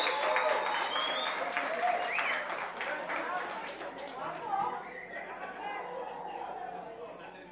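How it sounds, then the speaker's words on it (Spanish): Guests at a quinceañera cheer and clap for a chambelán named José, a lively crowd roar with applause and chatter that stays fairly loud for several seconds, then eases slightly. "Que se escuche la porra de José"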